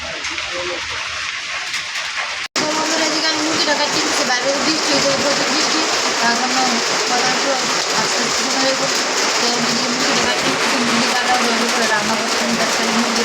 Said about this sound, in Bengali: তো বৃষ্টি প্রচুর বৃষ্টি নামে গেছি